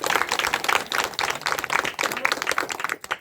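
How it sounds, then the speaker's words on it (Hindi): Villagers at a village assembly honouring a local daughter clap loudly and steadily, a dense run of hand claps close by that fades out abruptly near the end. "जोरदार ताली"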